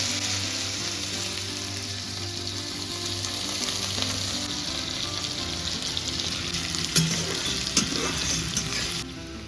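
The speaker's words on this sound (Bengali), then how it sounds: "এবার এই তেলে দিয়ে দিচ্ছে আলু।" Potatoes hiss and crackle as they fry in oil tempered with five-spice, bay leaf and a dried red chilli, a dense, steady sizzle close by with a few louder spits toward the end.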